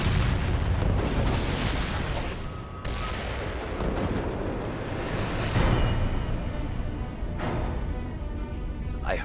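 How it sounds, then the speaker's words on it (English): Weapons dump packed with 300 barrels of black powder, cannon and musket balls blowing up in a long, heavy roaring rumble with sustained crackling bursts throughout. "Up to 300 barrels of black powder, together with cannon and musket balls. To prevent it from falling into enemy hands, General Chafe gives the order to detonate the lot."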